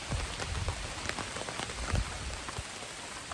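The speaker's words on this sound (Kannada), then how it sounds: "ಮಳೆ ಬರ್ತಾನೆ ಇದೆ" Heavy rain pours steadily onto a vegetable garden, a dense continuous hiss with scattered louder drops and splashes close by, heard alone without voices.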